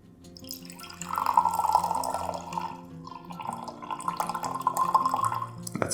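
Water pours steadily into a container of diluted white stain mix, a continuous trickling splash that swells after a soft start, dips briefly midway, then resumes at a steady, close level.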